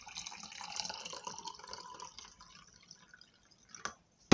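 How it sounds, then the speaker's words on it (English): Warm water pours into a glass cup in a steady trickle that thins into a few drips, ending with a soft clink. "I will pour warm water into the glass cup."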